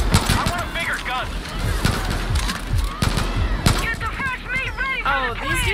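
Gunfire in the video game Far Cry New Dawn: rapid bursts of sharp shots crackle in clusters, with heavier loud bangs around the middle and further volleys near the end, mixed with other in-game effects.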